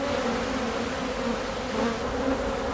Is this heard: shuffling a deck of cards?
no